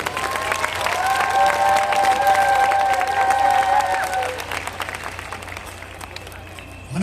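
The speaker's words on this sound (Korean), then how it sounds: "두 분 목사님을 박수로 맞이하겠습니다" A church congregation claps to welcome two pastors before a sermon, loud sustained applause with some crowd murmur and a few tonal voices, fading gradually toward the end.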